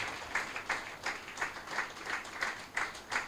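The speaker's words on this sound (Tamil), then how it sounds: "கைத்தட்டுங்களேன்" A small congregation at a church dedication and 27th anniversary service claps in a slow, even rhythm. The beats are fairly faint and evenly spaced, about three per second.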